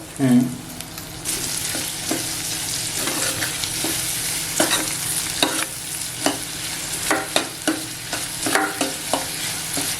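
Onion sautéing in oil for masoor dal aamti sizzles steadily and close up, with frequent scraping and clinking of a spoon stirring the pan, and no talk.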